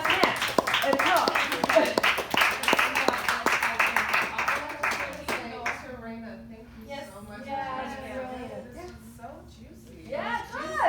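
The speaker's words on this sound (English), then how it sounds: "show applause to our readers" Audience applause for readers at a reading event, dense clapping for about six seconds, then fading into scattered claps and chatter as people talk over it.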